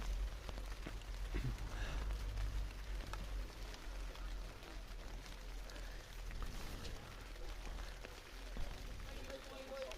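Steady rain patters on an outdoor bowling green, a soft continuous hiss with scattered drops, as faint voices talk in the background.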